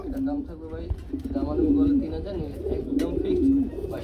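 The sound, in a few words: pigeons cooing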